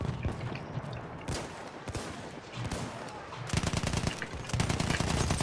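Dense gunfire during a Battlefield 1 Rush match, with overlapping automatic bursts and scattered shots, some close and loud and others farther off, growing into steady rattling toward the end.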